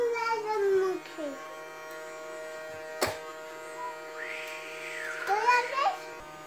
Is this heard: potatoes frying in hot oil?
no